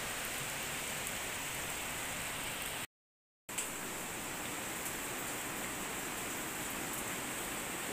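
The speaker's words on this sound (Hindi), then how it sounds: "भयंकर बारिश लग रही है, ऐसी बारिश लग रही है, पूरी भीग गई हूँ मैं" Heavy rain pours steadily over a mountain village as a dense, continuous hiss that fills the whole stretch, close and loud, broken only by a brief dropout near the middle; no voices are heard.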